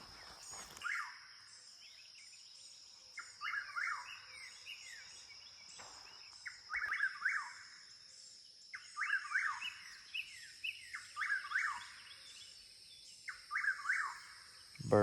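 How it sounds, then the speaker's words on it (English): Birdsong rings out in Tate's Hell State Forest in repeated bursts of chirps and trills over a steady high insect drone, fairly close, with short quiet gaps between phrases. "Birds are singing."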